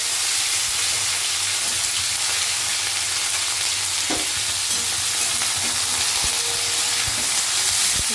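Chopped kakrol (spiny gourd) pieces fry in hot oil with a loud, steady, close sizzle that fills the whole stretch, with a few faint clicks of stirring.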